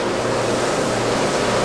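Jeanneau NC37 motor boat cruising under throttle with trim raised, close and steady engine drone mixed with loud wash of water and wind, continuous and without speech.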